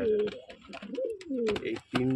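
Pigeons kept for sale coo softly at close range while someone talks over them throughout.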